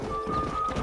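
Horse hooves clip-clopping at a steady riding pace in the video game Red Dead Redemption, close and continuous with a faint tonal hum behind.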